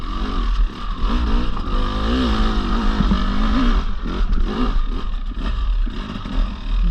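A 2024 Husqvarna 300 TE motorcycle engine revs close by, a raspy, buzzing drone that swells and rises in pitch, then drops off into a lower idle, with no talking.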